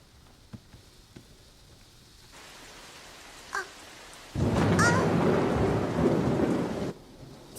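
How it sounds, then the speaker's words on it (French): A cartoon thunderstorm: soft patter gives way to a sudden loud crash of thunder with heavy rain that holds for a few seconds and then cuts off, with a faint cry over it. "les éclairs et les coups de tonnerre l'effrayaient lui aussi"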